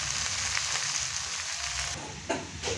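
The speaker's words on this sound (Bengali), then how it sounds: "এখানে রসুন পেঁয়াজ শুকনো লঙ্কা কিন্তু ভাজা হয়ে গেছে। বেতে শাক কিন্তু এবার দিয়ে দেব।" Greens, potato and aubergine hit hot oil with fried garlic, onion and dried chilli, giving a steady close sizzle with a brief clatter of a utensil near the end.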